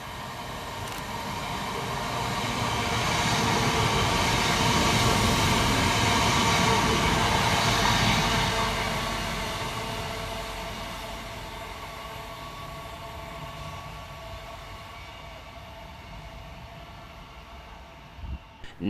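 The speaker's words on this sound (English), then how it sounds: "Flying through the middle on the fast will be 323-218, working 2H85 for Northern from Macclesfield through to Manchester Piccadilly" Northern class 323 electric unit 323-218 races through Heaton Chapel station on the fast line toward Manchester Piccadilly, a rushing roar swelling to a peak and then fading slowly, with no voices.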